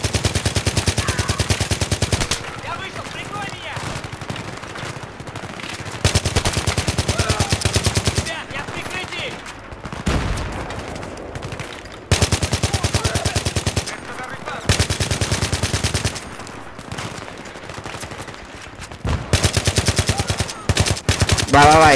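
Bursts of rapid machine gun fire in Battlefield 3 rattle on and off in long stretches, loud and close, with a voice speaking Italian between volleys.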